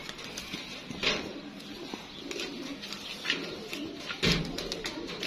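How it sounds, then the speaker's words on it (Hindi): A yellow-eyed pigeon coos softly among other birds on a rooftop loft, with faint chirps and occasional thumps in a quiet outdoor background. "जर्द आँख का कबूतर है।"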